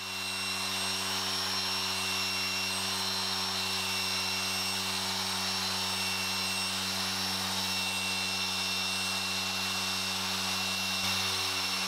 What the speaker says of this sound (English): I spent the best part of 10 minutes machine cutting each headlight